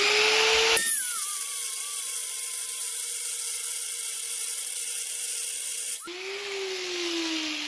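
A grinder whines steadily while cutting through a broken Evinrude outboard powerhead mounting bolt, its pitch dropping as the wheel bites into the metal and then rising again as it frees up. The sound is loud and close, with no talking.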